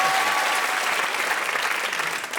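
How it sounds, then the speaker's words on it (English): Studio audience applause at a comedy panel show, a dense, steady wash of clapping held at an even level for the whole stretch, with no voices on top. "Round of applause,"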